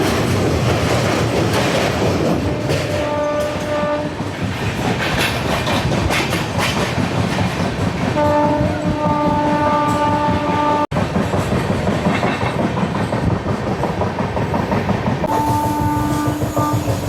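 An express train rolls steadily along the tracks between Khopoli and Vasai, with a continuous rumble and rhythmic clatter, loud and close throughout, with occasional tonal whines from the wheels.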